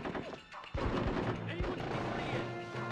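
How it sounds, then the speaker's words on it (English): Gunfire from the video game Full Spectrum Warrior, loud dense bursts of shots and booms filling the clip after a brief quieter opening, with voices talking underneath. "How come they can shoot us so easily?"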